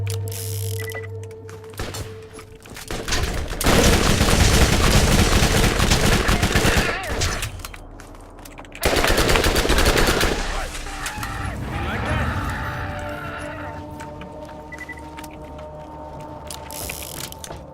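A combat rifle fires in the video game Borderlands, with rapid mechanical bursts and ratcheting clatter in two loud sustained stretches over a steady game hum and music.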